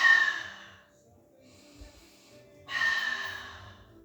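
Two deep, breathy exhales during a stretching exercise, each a loud airy rush that fades out, separated by a quiet pause.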